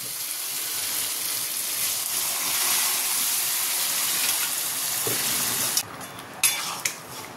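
Tarka with spice mix bubbles and sizzles in a pan, giving a continuous hiss that cuts out near the end, followed by a few short bursts.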